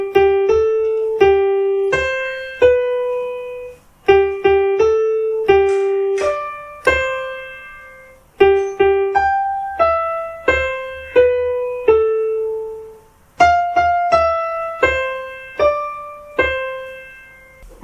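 Slow Happy Birthday melody picked out note by note on an electronic keyboard, single sustained tones with soft bass chords underneath, repeated through four phrases, clear and alone without speech.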